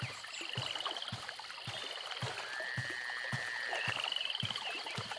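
Toads croak in a steady, evenly spaced rhythm in the video game Evil Islands, set against a constant hum of night insects and a high whistling tone.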